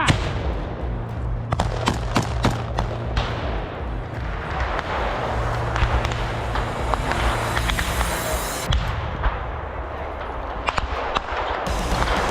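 Loud, dense gunfire crackles through an ambush on Russian soldiers, with shots and bursts overlapping continuously up close and the barrage barely letting up for the whole stretch.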